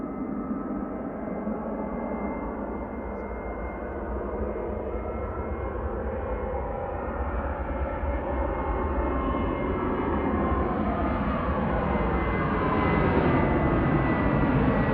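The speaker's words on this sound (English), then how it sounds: "KLM on the roll though to Amsterdam." A KLM airliner bound for Amsterdam rolls down the runway for takeoff at Manchester Airport, its engines a steady, broad roar that swells slightly louder toward the end, with no voices.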